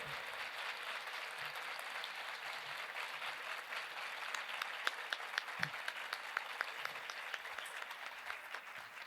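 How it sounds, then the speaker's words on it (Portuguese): A seminar audience at an education conference applauds, a dense, even patter of many clapping hands. It stays fairly quiet and steady for the full stretch, with a few sharper individual claps near the end. "Pode aplaudir."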